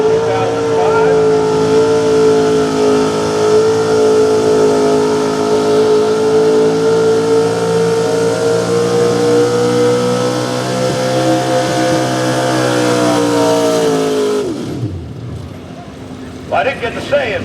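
A 1985 Chevy K20 4x4 small block high output pulling truck roars at sustained high revs at a truck pull, loud and steady for about fourteen seconds before the engine cuts off abruptly, with crowd noise and faint chatter after.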